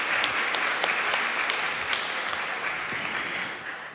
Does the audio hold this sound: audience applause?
yes